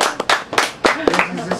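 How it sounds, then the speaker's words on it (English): An audience in a raw food store breaks into brisk, uneven applause, loud and close, with a cheerful voice calling out over the clapping. "Let's give him a round of applause."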